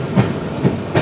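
The 13149 Kanchan Kanya Express rolling along the track near the Teesta river, with a steady loud rumble and rhythmic clickety-clack wheel beats recurring about every half second.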